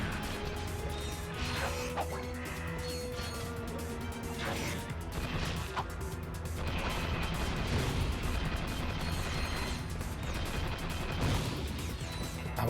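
Turrets firing in a Ratchet & Clank-style action game: a busy, continuous mix of repeated blasts, crashing impacts and whooshes layered over game effects, fairly loud throughout with no clear pauses.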